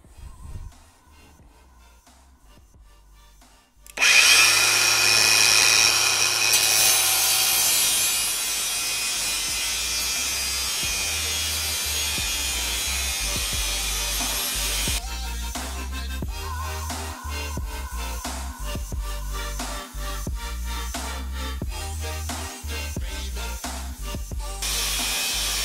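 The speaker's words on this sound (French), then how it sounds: "première chose qu'on va essayer, ce sera le disque de coupe, donc le disque à tronçonner, sur une matière métallique" Makita DGA504 angle grinder cutting metal with a cutting disc: after a few seconds of quiet, the disc bites in with a loud, sustained gritty screech, then settles into a steady harsh grinding whine that continues to the end.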